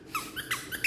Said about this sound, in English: it's going to squeak here.